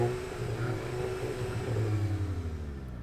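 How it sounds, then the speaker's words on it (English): A Volkswagen Golf GTI hot hatch engine hums faintly at a steady idle, lifting slightly in a brief, gentle rev before settling again. "give the GTI a little rev"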